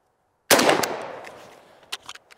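A single sharp rifle shot from a Primary Weapon Systems MK114 firing Federal .223 ball ammunition, loud and close, with a decaying echo and a few faint clinks afterward.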